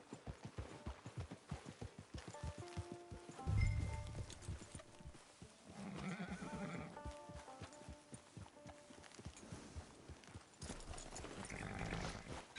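Horse hooves clip-clopping at a walk in the Red Dead Online video game, an even rhythmic beat of steps close by, with a brief snort and faint background game sounds.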